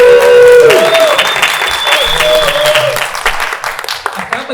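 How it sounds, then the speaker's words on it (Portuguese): Audience at a horror film jury panel event applauding, a steady burst of clapping under a speaker's voice, fading gradually over several seconds. "Palmas para o Marcelo, né?"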